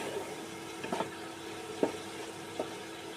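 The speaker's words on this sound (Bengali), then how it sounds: "অল্প জল দিয়ে ভালো করে মশলাটা কষিয়ে নেব।" Spice masala frying with a little added water in a pan, a soft, continuous sizzle broken by a few distinct scraping strokes of a spoon against the pan.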